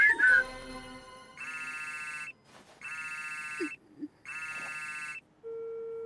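A phone rings in three evenly spaced electronic trill bursts, clear and close, after a short bit of voice at the start, ending with a steady tone.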